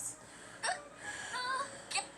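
Cartoon hiccups from a character in a parody edit, three sharp gulping hics spaced about a second apart, close and fairly quiet, with whiny vocal sounds between them.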